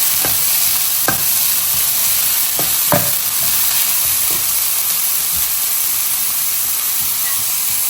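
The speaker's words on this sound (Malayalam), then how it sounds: "സവാള ഇട്ട് കൊടുക്കാം." Onions frying in a hot pan for a masala, a loud steady sizzle and hiss with a few stirring clinks early on, close up and continuous.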